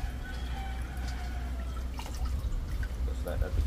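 Water trickles and drips while lobster meat is rinsed at sea after a catch, a light steady splashing running under ongoing speech.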